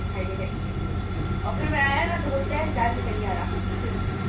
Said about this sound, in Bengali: এই দেখো ট্রেন তো চলছে